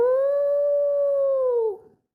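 Jackals howl somewhere at night: one sustained, pure-toned howl that stays level and then dips and fades at the end, clear and prominent with nothing else around it.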